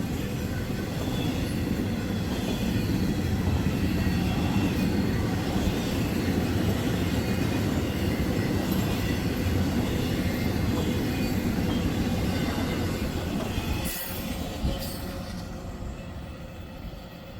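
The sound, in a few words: CSX freight train passing with wheels squealing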